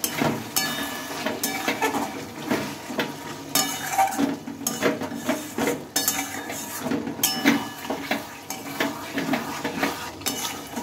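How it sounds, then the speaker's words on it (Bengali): A spoon stirs chicken and chopped tomato in a pan over low gas heat, with repeated scraping and clinking strokes against the metal and a soft sizzle underneath, no talking. "একটা টমেটো আমি দিয়ে নিলাম। ভালোভাবে আমি মিশিয়ে নেব।"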